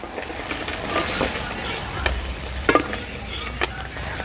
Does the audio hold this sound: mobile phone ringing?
no